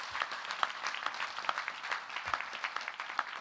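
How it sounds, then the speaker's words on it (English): Audience applause at a university graduation ceremony for a student band, sparse and fairly faint clapping with distinct individual claps scattered across a steady soft wash. "Another round of applause for them, please."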